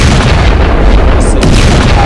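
A loud, rumbling blast with a deep sustained roar that fills the whole moment, heavy and booming without any speech.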